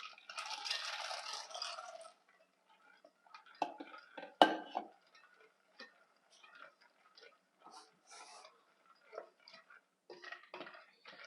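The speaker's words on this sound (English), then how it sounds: "We're going to put our peanuts in here." Peanuts, about half a pound, pour into a cooking pot of hot candy mixture with a brief rattling rush at first, followed by scattered clinks and knocks of stirring and settling, close and fairly quiet.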